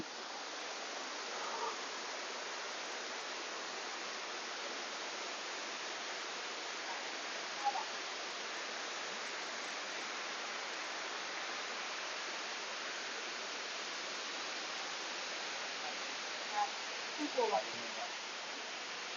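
Erawan waterfall in Thailand, running with fairly low water, pours as a steady broadband rush that fills the whole stretch, even and close, with a few faint brief knocks near the end.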